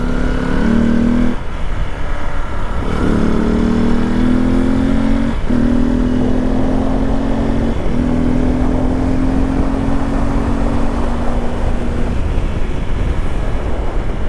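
A Hero XPulse 234 motorcycle fitted with a big bore kit rides under light throttle, its engine droning steadily with the pitch climbing through the gears, loud and close under heavy wind rush.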